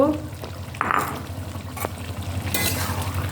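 Fried potatoes are stirred into sautéing chicken in a pan, giving a low sizzle under scraping and clattering spoon strokes, with a soft burst as they go in and some background noise.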